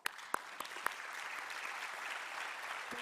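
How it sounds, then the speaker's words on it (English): Applause from a conference audience for distinguished panelists and experts at a cybersecurity, trust and privacy session, opening with a few separate claps and swelling into a dense, sustained round of clapping. "please join me in giving the distinguished panelists and experts a big round of"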